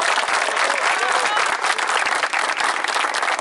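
Steady applause from a crowd at a sports tournament plaque and trophy ceremony in İzmir, dense clapping throughout with crowd noise.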